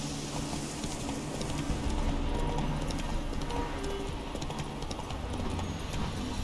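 Roach the horse from The Witcher 3 clip-clops along at a steady walking rhythm, hoofbeats close and continuous over a low outdoor ambience.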